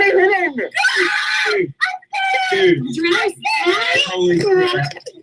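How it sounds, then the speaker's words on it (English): Loud, strained screaming in a scary video, several long wails and shrieks broken by short gaps, close and harsh across the whole stretch. "Too much screaming in this video."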